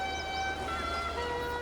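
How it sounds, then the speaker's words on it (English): Trumpets play sustained tones on Lake Königssee, their sound echoing off the glacier-carved cliffs. The notes are held and overlapping, fairly loud, heard alone with no talk. "Trumpets sound to display the amazing echo that bounces off the glacial carved cliffs."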